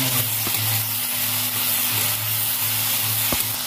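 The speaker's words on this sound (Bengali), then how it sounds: "এর মধ্যে এবার চালটা দিয়ে দেবো, লবণটা দিয়ে দেবো, হলুদ গুঁড়োটা দিয়ে দেবো, ভালো করে নেড়ে চেড়ে হালকা করে ভেজে নেবো।" Chalta fried with chili, mustard, salt and turmeric sizzles steadily in a hot pan. A constant close frying hiss is broken by a few soft clicks from stirring.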